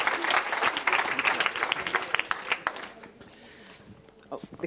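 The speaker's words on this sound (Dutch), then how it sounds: "Maar voor nu gaan we nog een keer voor jou klappen" An audience at a cultural kick-off event applauds steadily, loud at first and then thinning out into scattered claps, with a voice briefly heard under it.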